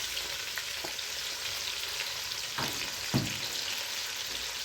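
Onions sizzle steadily in hot oil or ghee in a pan, a soft even frying hiss with a few faint stirring clicks. No one talks.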